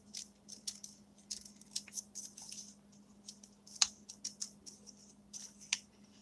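Crisp, irregular snips of scissors cutting paper, close and fairly quiet, with a steady low hum underneath.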